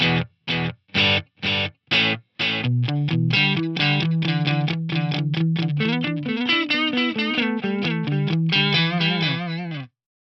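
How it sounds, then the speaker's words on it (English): An electric guitar through a single quarter-note delay with no high cut, low cut or feedback plays short, choppy notes that repeat in time a beat later, then a steadier run of notes with echoes trailing each one. "what I've got at the moment is just a single quarter note delay"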